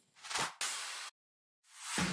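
A few short, airy whooshing swells with a brief silence in the middle, soft synthetic swishes that rise and fall.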